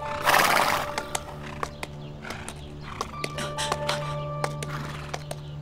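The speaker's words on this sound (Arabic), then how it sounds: "يا الله، راح الحصان" A horse neighs loudly up close at the start, then its hooves clip-clop in a steady, uneven walking rhythm with further snorts and whinnies layered over the steps.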